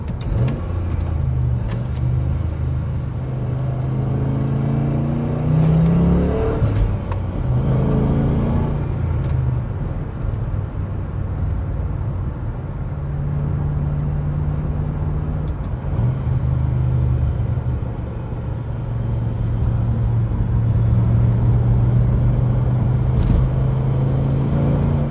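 A 2004 Pontiac GTO with an LS1 V8 drives and accelerates, its engine rumbling from inside the car with rising revs, gear changes and sustained pulls throughout.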